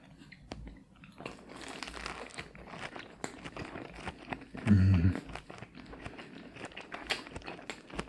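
Crunchy bites and chewing of Domino's Parmesan twists dipped in sauce, close and soft, with small crackles and wrapper rustles and one louder, dense crunch in the middle.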